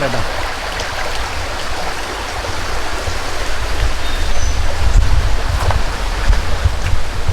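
A small stream flows along a Vagamon off-road hill route, its steady broadband rush and gurgle close and fairly loud throughout, with some wind buffeting the microphone.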